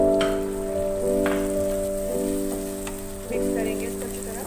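Spiced onion masala sizzles steadily in a pan on medium flame, a close, continuous frying hiss with a few soft stirring clinks, no talking.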